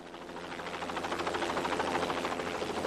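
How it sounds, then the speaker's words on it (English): A privately flown Bell Jet Ranger helicopter in flight, its steady rotor chop and turbine whine building slightly louder over the few seconds, heard alone at moderate distance. "This private jet Ranger helicopter, piloted by a Vietnam veteran"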